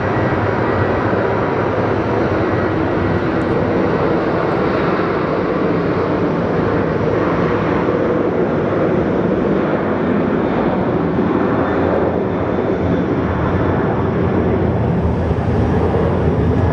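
An airplane roars past at Sky Harbor airport on a rainy day, a loud, sustained broadband engine rumble and rushing noise that holds steady throughout.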